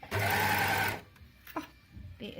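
An Elna overlocker whirs rapidly in a short, loud burst of stitching and cutting, followed by quiet handling noises.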